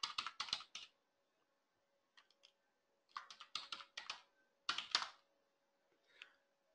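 A command is typed on a computer keyboard in quick bursts of crisp key clicks, separated by short pauses, close and quiet with no talk.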